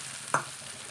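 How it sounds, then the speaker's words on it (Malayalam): Curry leaves go into hot oil for a gooseberry pickle, giving a faint, steady sizzle with a brief stir or scrape partway through and no voices. "നമുക്കിനി കറിവേപ്പില ഞാൻ വറുത്ത് ചേർക്കുകയാണ്."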